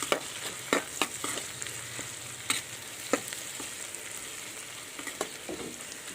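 Egg pasta with a spoonful of chili powder being stirred in a pan, a soft continuous sizzle broken by sharp scraping and tapping strokes of the spoon, close and fairly quiet with no voices.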